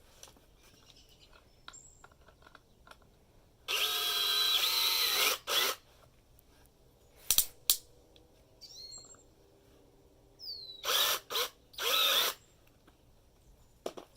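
A power driver briefly spins the bolt on a Fastcap three-way clamp, in short whirring bursts: one long run near the start, then a few quick pulses and two more runs later, with quiet gaps between them.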